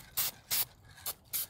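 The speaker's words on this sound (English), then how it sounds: "So we're going to get just a can of spray lacquer." Spray lacquer hisses from an aerosol can onto metal bathroom fittings in four short, sharp bursts, close and loud, with brief pauses between them.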